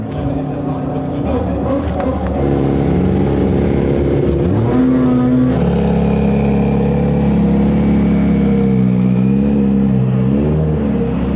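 A Renault RS01 race car at Goodwood idles with a loud rough engine, then revs and accelerates, its pitch rising and falling through several throttle blips, heard close and loud from inside or beside the car.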